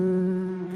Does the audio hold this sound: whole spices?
no